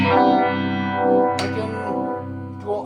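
Electric guitar played through a budget Univibe clone pedal, with the guitar's tone knob rolled back for a darker sound, ringing sustained chords with a warm, throbbing modulated swirl and one brighter strummed accent midway, alone with no talking.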